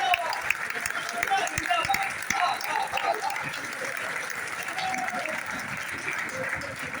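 Audience applause at a Hindi kavi sammelan poetry gathering in Jain Bagh, Saharanpur, a steady, moderately loud wash of clapping from a crowd lasting throughout, with some voices mixed in.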